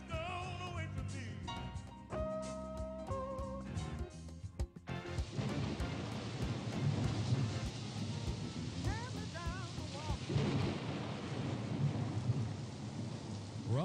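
A thunderstorm with heavy rain pouring steadily and low rumbling thunder rolling through, loud and continuous, after a few seconds of a tonal musical jingle at the start.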